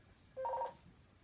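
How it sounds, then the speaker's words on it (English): A telephone gives one short electronic ring, a brief tonal chirp in an otherwise quiet room. "That was a phone call from rheumatology"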